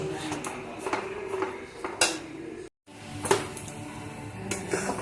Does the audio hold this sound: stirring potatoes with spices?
yes